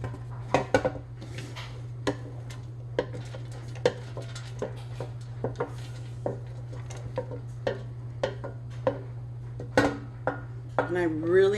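Chopped vegetables tipped into a cooking pan for an Iraqi chicken biryani: scattered light clinks and taps of utensils against the pan at irregular intervals over a steady low hum, with a voice speaking throughout.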